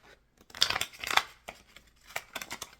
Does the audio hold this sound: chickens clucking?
no